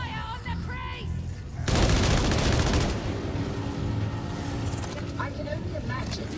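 Sustained automatic gunfire from Warhammer Darktide erupts in a dense, loud burst, then rattles on steadily beneath the action, with a voice talking over it during the opening seconds.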